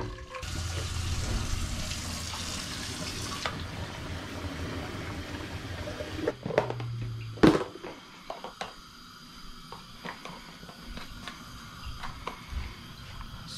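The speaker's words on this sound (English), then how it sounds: "Okay, so first of all, I am just gonna boil some water." Water runs from a kitchen tap into a pot for boiling pasta, a steady hiss for several seconds before it is shut off, followed by clinks and a sharp knock of cookware.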